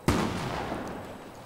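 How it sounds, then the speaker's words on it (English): A single loud gunshot in a video game cracks sharply up close, then leaves a short, fading echo that trails off over about a second. "They're all shooting."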